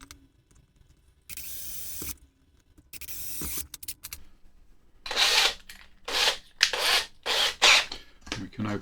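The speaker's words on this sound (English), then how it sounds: "we will drill some pilot holes" A small power drill bores pilot holes into a workpiece, whirring in several short, loud bursts separated by pauses, with faint mechanical handling noises in between.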